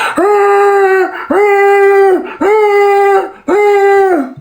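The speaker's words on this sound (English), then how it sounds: "when the dog's on a bite sleeve or on a tree and it's making that noise" A working dog in high drive on a bite sleeve gives four loud, sustained whining cries in a steady repeating rhythm. Each cry is held for about a second with a short break between, and it sounds close.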